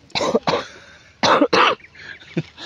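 A person coughs several times in short bursts, two pairs close together and then a softer single cough, near and fairly loud.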